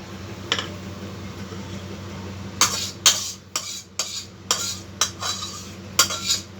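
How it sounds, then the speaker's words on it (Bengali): Potol dolma gravy poured and scraped into a pan, heard as a series of sharp metallic clinks and scrapes of a utensil against cookware, closely spaced near the end over a low steady background hum. "গ্রেভিটাকে ঢেলে নিই।"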